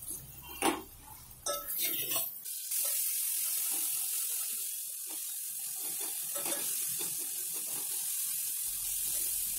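A tumbler of water is poured into a pan of besan pithal cooking on a gas stove. After a few clinks, a steady rushing splash runs for about seven seconds, close and fairly loud.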